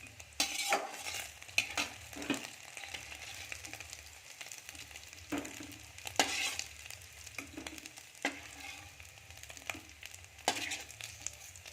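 Cashews, green chilli, ginger and poppy seeds fry in hot oil for a paneer curry, a soft steady sizzle broken by repeated scraping stirs of a spatula against the pan, quiet and without voices.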